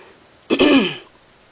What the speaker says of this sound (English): can't clear my throat